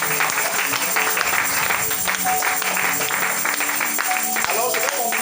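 Church congregation applauding and cheering during a worship service, steady dense clapping with mixed voices and a sustained organ-like tone underneath, continuous and moderately loud throughout.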